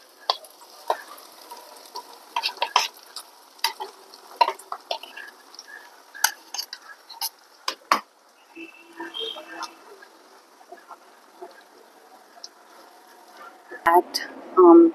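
Baked beans are stirred in a pan for a full English breakfast, with irregular sharp scrapes and taps of a utensil against the pan, quiet stretches between, and a soft sizzle, while someone talks.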